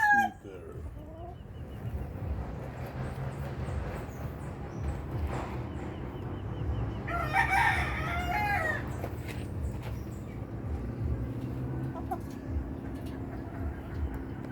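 A rooster crows once, clearly but from a short distance, amid a busy town fiesta in Cabatuan, Iloilo, with a constant crowd murmur and background bustle around it.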